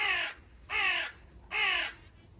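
A crow in an allotment garden gives three loud, harsh caws, evenly spaced and close, with quiet pauses between them.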